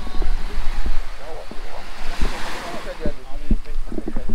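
Surf rolls onto the beach at Jalawai, Kuala Penyu, a broad steady wash of waves mixed with gusty wind buffeting the microphone, while people talk nearby.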